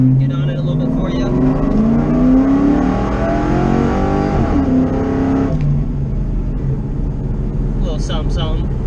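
A car accelerates hard on a road, its engine note climbing in rising harmonic sweeps, dipping briefly and surging again, loud and close, with someone talking over parts of it.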